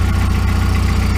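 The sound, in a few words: Volkswagen EA111 engine idling with piston slap knocking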